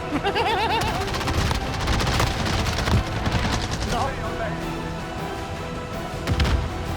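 Gunfire in Call of Duty Warzone, 1984-era Verdansk map, rapid bursts and shots crackling through a busy battle mix while players talk over it.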